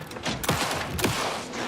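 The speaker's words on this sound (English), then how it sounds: "Anderson, pin him down with gunfire for me to get the light on him." Gunfire in the Alan Wake 2 game as an officer fires to pin down an enemy, two or three heavy, close blasts in quick succession with a rumbling tail, amid surrounding noise.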